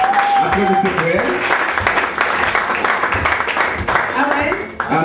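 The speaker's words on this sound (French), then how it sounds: "Applaudissez pour elle." Church congregation applauds and claps in a sustained, fairly loud burst, with voices and cheering mixed in over the clapping throughout.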